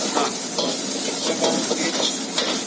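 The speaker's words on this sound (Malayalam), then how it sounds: "ബ്രൗൺ ആവുന്ന വരെ ഇങ്ങനെ ഇളക്കിക്കൊണ്ടിരിക്കണം" Large onion pieces being stirred in a frying pan until browned, with a steady hiss of frying and repeated scraping strokes of the spoon, close and fairly loud, no voices.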